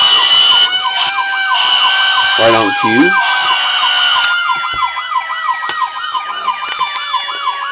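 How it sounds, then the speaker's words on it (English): A Federal Q siren wailing from a Franklin Mint E-One rear-mount ladder fire truck model, its winding tone rising and falling steadily while a brief air horn blast cuts in, with a short spoken remark over it. "Here's the Federal sound, and a air horn to kick in every now and then."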